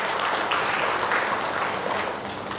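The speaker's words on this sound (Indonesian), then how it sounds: "Tepuk tangan dulu buat ibu-ibu." An indoor audience applauds the mothers at the opening of a cervical cancer early-detection outreach event, with steady, dense clapping from many hands filling the room and holding a fairly even level throughout.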